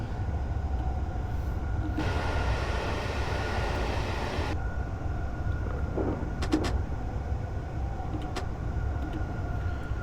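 A JR East Keihin-Tohoku line E233-1000 commuter train rumbles steadily past near Omiya, a continuous low rail roar with a brief hiss and a few sharp squeals or clicks partway through.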